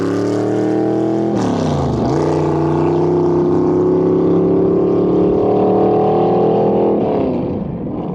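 A 1936 Hudson Terraplane with a 406 cubic inch small block Chev roars loud and steady at a salt flat speed week, its engine note shifting pitch as it revs and then holding a sustained drone before dropping off.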